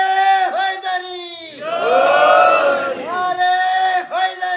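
A large mourning congregation at a Youm-e-Ashoor majlis during Muharram chants a slogan in unison in reply to a leader's call, one loud swelling roar of many voices rising and falling, with single chanted calls before and after.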